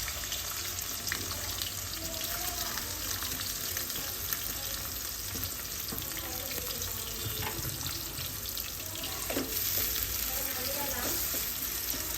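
Onions and green chillies frying in hot oil give off a dense, continuous hiss and crackle at a steady loudness, with faint clinks and background noise mixed in.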